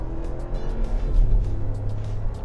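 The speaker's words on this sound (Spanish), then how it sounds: "Ahorita vamos a acelerar nuevamente." A RAM 1500 pickup truck accelerating on the road, its engine giving a steady low rumble that swells in the middle and holds, heard from inside the cab, alone without speech.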